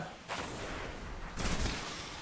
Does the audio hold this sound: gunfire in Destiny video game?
yes